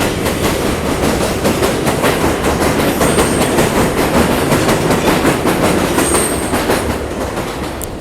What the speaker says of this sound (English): let me wait for that train to ride by